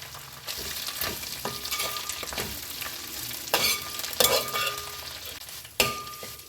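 Curry leaves fry in oil in a pan, giving a steady crackling sizzle with stirring scrapes and a few sharper pops and clinks of a utensil, close and moderately loud.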